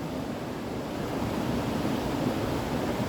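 A fast river rushes past a rock wall at a backcountry campsite, a continuous broadband roar of flowing water, steady and fairly loud with no voices.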